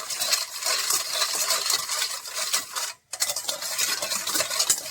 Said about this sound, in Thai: คลุกเคล้าให้เข้ากันนะครับแบบนี้ครับ